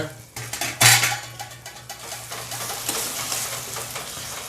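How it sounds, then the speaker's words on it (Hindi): A metal lid is lifted off a pan of softened tomatoes cooking for a South Indian chutney, with a loud close clank followed by lighter clatter, scraping and a faint simmering sizzle. "अब इसको आप खोल कर चेक कर लेंगे"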